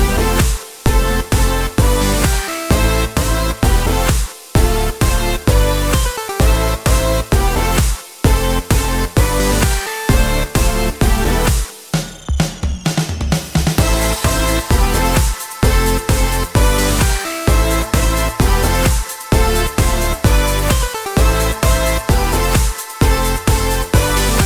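An EDM drop built in GarageBand pounds out loud, dense synths over a steady driving kick beat, with a short sweeping break in the middle before the full groove returns.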